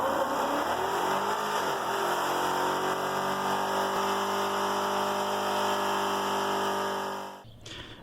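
Factory 5.3-liter all-aluminum V8 in a four-wheel-drive 2012 Chevy Colorado revs steadily and loudly up close, its engine tone rising and then holding for about seven seconds before cutting off abruptly.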